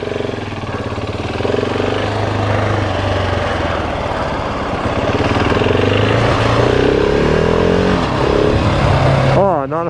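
A GasGas ES 700 dual-sport motorcycle rides through city streets, its engine droning loudly and steadily with rising and falling revs, close to the rider.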